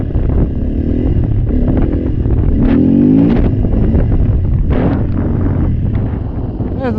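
A motorcycle held up on its rear wheel during wheelie practice, with a steady, loud engine rumble and heavy wind buffeting on the microphone the whole time.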